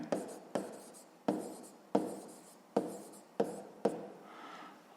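Pen writing a math answer on paper, seven quick scratchy strokes in a regular rhythm, close and quiet, with no voices.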